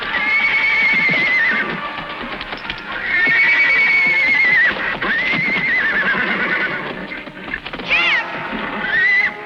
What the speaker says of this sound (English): He's a Mustang.